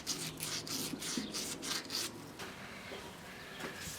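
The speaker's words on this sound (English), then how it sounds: "Use small pieces of sandpaper to get into the tight areas and start sanding by hand." Rhythmic rasping strokes of small pieces of sandpaper rubbing a wooden board by hand, repeated steadily and close up with no talking.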